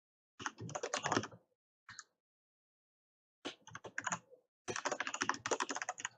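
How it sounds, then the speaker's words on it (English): Loud, clacky computer keyboard typed in quick bursts, dense clattering keystrokes broken by short pauses, close and dry with no talking. "I apologise that my keyboard is super clappy."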